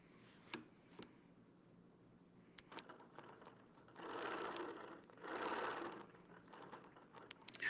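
A sewing machine stitching through quilting fabric runs in two steady sustained stretches, with lighter intermittent mechanical ticks and clicks of fabric handling between them, fairly close and with no talk.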